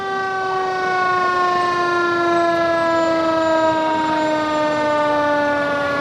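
Fire engine siren wailing at a street parade, a loud, close, steady tone that holds for several seconds with no talking over it.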